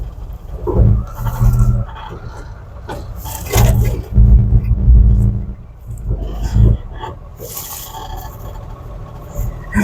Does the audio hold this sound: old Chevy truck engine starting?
yes